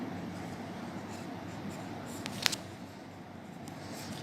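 Chalk or marker writing on a classroom board during a Hindi lesson for third-grade students, a faint continuous scratchy scrawl over room noise, with one brief sharper tap partway through.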